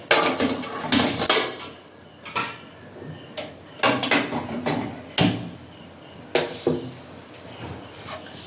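A metal kadai is set down on a stove with several sharp clanks and scrapes, separated by brief pauses, loud and close amid other kitchen clatter.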